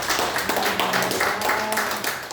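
A church congregation claps together during a worship service, with rapid overlapping hand claps over faint sung or spoken voices, sustained and fairly close.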